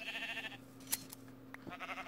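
Sheep in Minecraft bleat softly in a few short calls over a quiet background with a faint steady hum.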